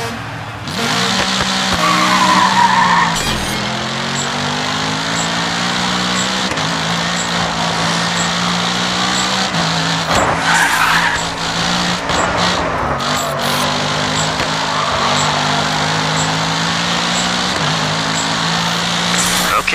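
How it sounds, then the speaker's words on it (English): Car drifting sideways through mountain roads in the racing game GRID 2: a sustained engine drone with shifting revs and repeated tire squeals and skids, loud and continuous. "Get the car sideways and carve yourself a path through the mountains."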